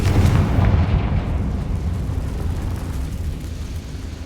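A Confringo fire spell bursts in Hogwarts Legacy, landing as one loud, close boom whose deep rumble slowly fades over several seconds.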